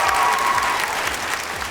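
A talent-show audience applauds steadily, a dense wash of clapping hands that stays loud and even throughout.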